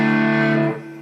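An electric guitar runs through a Boss SY-1000 set to a Centura Klon-style light, cleanish distortion, giving one sustained chord with mild growl that rings loud and steady, then drops in level and trails off.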